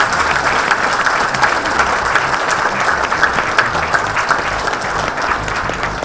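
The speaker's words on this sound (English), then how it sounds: "Can we have a big round of applause for all of you?" An audience at an Ingersoll Rand corporate event in Mumbai claps loudly and steadily, a sustained round of applause with no pauses.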